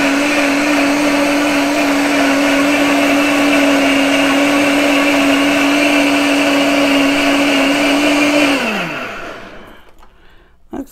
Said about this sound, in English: Let's give it a good blend.